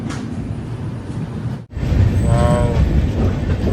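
A Visakha Express passenger train runs at night near Rajahmundry, a loud steady rumble of wheels and carriages with a momentary dip before the roar resumes and a faint squeal rises.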